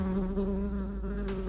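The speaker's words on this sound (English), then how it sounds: "He reduced his body and became a bee, and then he flew only around Shiva" A bee buzzing steadily as it flies, a close, continuous drone with no pauses and no voices.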